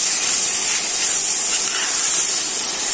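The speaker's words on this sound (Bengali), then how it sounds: "এখন বোনেরা মশলাটা ভালো করে ভাজবেন।" Ground cumin powder fries in a hot pan for a Bengali fish bhuna, giving a steady, loud, broadband sizzling hiss that stays unbroken throughout.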